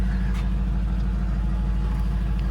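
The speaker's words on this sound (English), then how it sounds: "he can probably idle this truck or just turn the key back" A pickup truck engine idling while parked in the shade of a back pasture, a steady low, even rumble held close and fairly loud with no talk.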